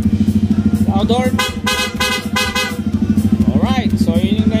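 A PIAA loud horn fitted to a Yamaha XSR 155 blares in several quick, close toots, with short bursts of talk before and after over a steady low motorcycle hum.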